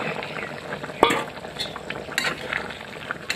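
Fried taro and potato pieces drop into a simmering goat meat curry in a pot: a sharp clatter, then a steady bubbling sizzle with light stirring scrapes.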